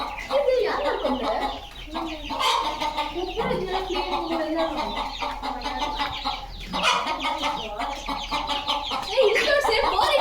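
Chickens cluck and squawk close by on a farm in Shivamogga, a busy overlapping chatter of fowl with occasional louder calls, while people talk nearby.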